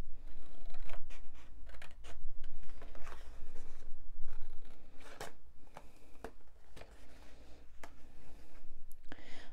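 Knife or blade scoring and slicing through cardboard along fold lines while making a box, a close run of scratchy cuts and rustles with small clicks, steady and continuous.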